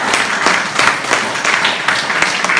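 A church congregation claps and applauds, loud and close, a dense and steady patter of many hands with no pauses.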